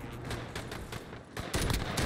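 Rapid FAL rifle fire in the Warzone video game crackles in a dense, continuous burst of shots, loud and close, intensifying toward the end.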